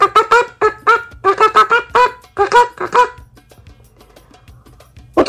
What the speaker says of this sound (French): ses poussins, qui remplissent la forêt de leurs caquettements et gloussements